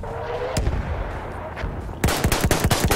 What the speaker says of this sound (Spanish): Suenan muchos disparos